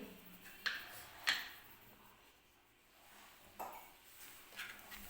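Moong dal dosa batter is mixed with baking soda and salt in a bowl, giving faint, quiet stirring with a few sharp clinks of the utensil against the vessel, spaced irregularly.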